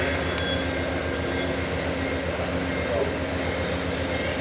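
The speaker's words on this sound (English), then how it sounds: "584 with the P42 leader is now headed to San Diego." A southbound Amtrak Surfliner led by a P42 locomotive rolls past heading to San Diego, making a continuous loud rumbling roar with a constant, unbroken rail drone.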